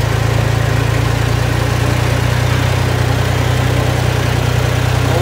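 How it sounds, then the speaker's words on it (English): A vehicle engine drones loud and steady while driving down to a hay field on a farm, a constant low rumble with vibration and no talking. "Now we're just driving down to the field."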